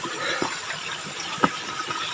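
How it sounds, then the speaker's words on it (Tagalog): Natural spring water flows steadily from underground at an outdoor spring, a soft continuous rush with a few brief splashes, close by and fairly quiet, with no talking. "Bukal yan, guys."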